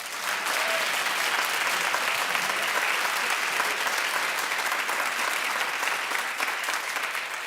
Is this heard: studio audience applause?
yes